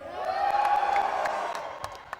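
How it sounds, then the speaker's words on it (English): An audience at a comedy show in a family entertainment night cheers, whoops and screams in a loud sustained swell that fades toward the end, with a few scattered claps. "Why do they always scream louder?"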